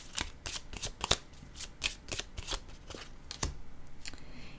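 Playing cards being shuffled by hand, a run of quick papery riffles and flicks in uneven bursts, close and fairly quiet with no talk.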